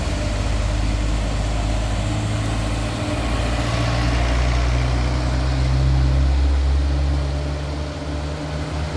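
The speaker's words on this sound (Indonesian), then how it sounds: "Ini dia truk ekspedisi PT KC Euro 4." An expedition truck's diesel engine drones loud and close on a busy road, a steady low rumble that swells slightly midway and eases off toward the end.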